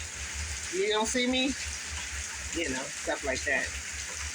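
Steady rain pattering outdoors, a constant hissing wash under a voice that talks intermittently, her speech rising over the rainfall in short bursts.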